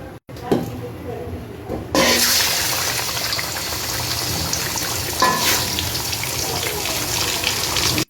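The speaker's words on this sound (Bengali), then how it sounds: "পায়েগুলোর সাথে আমি কিছুটা পানিও অ্যাড করেছি।" Water poured into a pan of beef trotters frying in oil left from browned onions for nehari, a loud sizzling hiss that jumps up and stays steady after a brief quieter start, with a few clinks and no talk.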